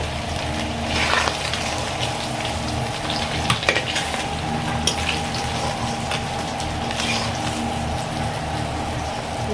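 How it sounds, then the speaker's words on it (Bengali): Katla fish frying in oil in a large batch make a loud, constant sizzle with bubbling and occasional stirring clatter, close up and without speech. "মাছগুলো এরকম ভেজে নিয়েছি"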